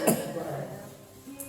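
A man coughs once, short and close, outdoors in cold weather in Manali, followed by brief quiet.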